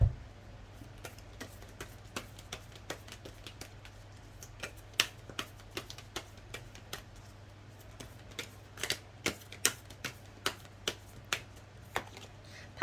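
Tarot cards being shuffled and drawn, heard as a rapid run of crisp, light flicks and snaps at an uneven rhythm, close and fairly quiet in a still room.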